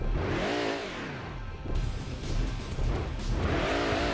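A racing car in Gran Turismo 2 spins its rear wheels in third gear, the engine note sweeping up and down in loud revving surges with rough, choppy stretches between.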